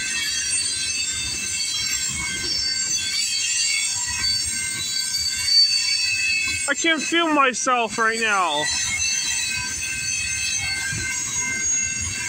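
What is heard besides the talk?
CP freight train passing, wheels squealing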